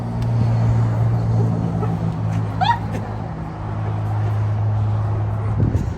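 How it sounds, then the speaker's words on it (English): Road traffic rumbles past near a parked Peterbilt 389 truck, a steady low engine drone with a brief squeal of a passing vehicle mixed in. "Loud traffic going by"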